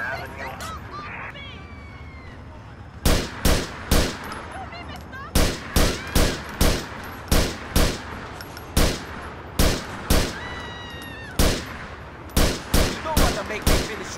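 Loud, close gunshots in Grand Theft Auto IV on PC, fired as single spaced cracks and quick double or triple bursts with short pauses between, over a quiet street background.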